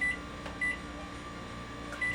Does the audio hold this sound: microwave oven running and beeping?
yes